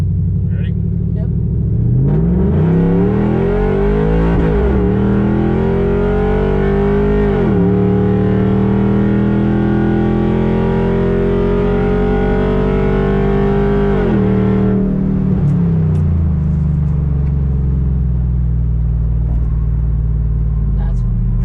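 A Ford four-door truck engine roars loudly up through the gears from first, its pitch climbing and dropping with each shift, while people talk over it.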